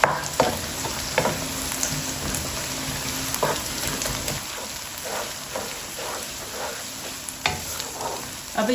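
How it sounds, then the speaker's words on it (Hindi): Ginger garlic paste frying and sizzling in a hot pan, a steady crackling hiss with occasional stirring scrapes and clatters, close and moderately loud, no talking. "अब इसमें अदरक लहसुन का पेस्ट डाल दूंगी।"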